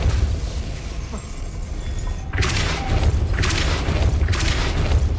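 A Depulso spell is cast in Hogwarts Legacy, a force-push blast: a low rumbling ambience gives way to a sudden booming whoosh with crackling debris, fairly loud and alone.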